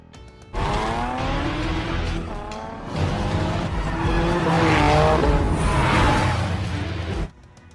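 Race cars in a film skid down a steep winding mountain road, with loud tire squeals rising and falling in wavering pitch over roaring engines. The sound is continuous for several seconds, then cuts off abruptly.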